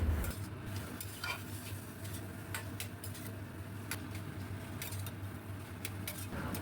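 A spoon stirs taro stem curry with garlic around a pan, giving steady soft scraping and gentle sizzling under a low hum, with faint clicks of utensil on metal throughout and no voices.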